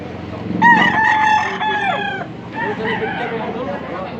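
A rooster crows loudly and nearby at a chicken market in the Philippines, one long drawn-out call, followed by softer clucking from other fowl.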